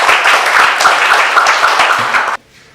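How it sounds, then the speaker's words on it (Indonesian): A classroom of students claps together in a brisk, dense burst of applause, loud and close, before cutting off abruptly near the end. "Kita kasih tepuk tangan dulu untuk kita semua hari ini."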